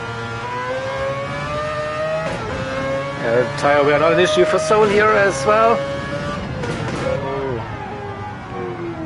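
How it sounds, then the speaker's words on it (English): The Mazda RX Vision's rotary engine screams in a racing video game, a high revving whine rising and falling through gear changes, heard steadily under a commentator's speech. "The screaming engine noise is there."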